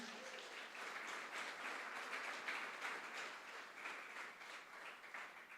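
A church congregation applauds steadily for several seconds, a dense wash of many clapping hands at a moderate distance with no one speaking over it.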